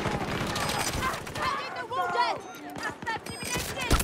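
Video game gunfire crackles in quick bursts and scattered shots at moderate volume, mixed with excited player talk.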